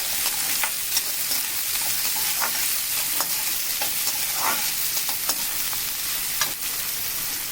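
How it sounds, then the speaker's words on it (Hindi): Chopped vegetables including green chillies and spring onions stir-fry over high heat for fried rice, a steady close sizzle with scattered scraping stirs throughout, no voices. "ये सब सब्जियां हम एक ही साथ डाल देंगे और इन्हें तेज आंच पर ही भूनेंगे।"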